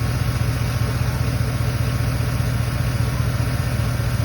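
An old Chevy mud truck engine idles at a steady, even rumble with a low, regular pulse, running alone without anyone speaking.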